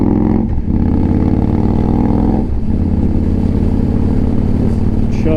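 A 2015 Victory Vegas 8-Ball V-twin motorcycle chugs steadily along at a low, loping rumble. It is loud and close throughout, with a couple of brief dips in the throb and no talking over it.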